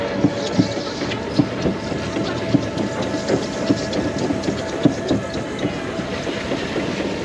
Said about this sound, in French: Un très bon petit coaster familial. Très court, mais très fluide.